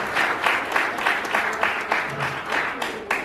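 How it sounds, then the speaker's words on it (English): At a high school idea challenge event, a modest audience gives a quick round of applause for Donna, a moderate crowd of hands clapping with a pulsing, uneven rhythm for about three seconds. "we could just do a quick round of applause for Donna"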